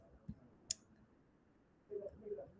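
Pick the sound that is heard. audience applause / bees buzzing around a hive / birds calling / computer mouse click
computer mouse click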